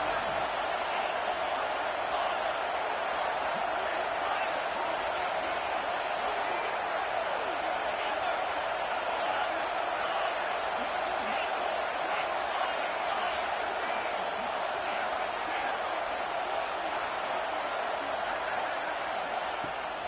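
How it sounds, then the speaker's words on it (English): Steady roar of a home stadium crowd in the College Football 26 video game during a Tennessee matchup, a dense, continuous wash of cheering that holds level throughout with no break. "Here comes his home crowd as the defense tries to get off the field on 3rd down."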